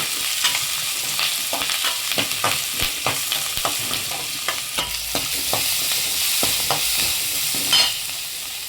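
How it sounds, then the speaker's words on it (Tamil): Onions sizzle steadily in a hot pan with rock salt, sautéed until golden, with frequent scraping and stirring clicks from a utensil throughout, close up and without talk. "வெங்காயம் நல்லா கோல்டன் கலராக வதங்குற வெள்ளம் வதக்கி எடுத்துக்கோங்க"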